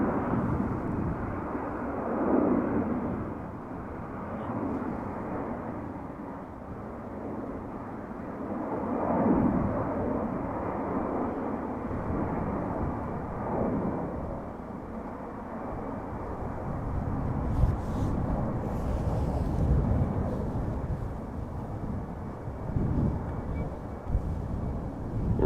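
A Turkish Airlines jet at Amsterdam Schiphol rumbles low and muffled at a distance, a long swelling roar buffeted by wind noise, with no voices.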